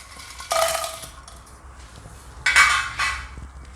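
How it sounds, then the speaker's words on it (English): Dried red chilies tossed in a dry pan, two bursts of metallic clinking and scraping from utensil against the pan, each lasting about a second, over a quiet background. "Now I'm going to roast the dried red chilies."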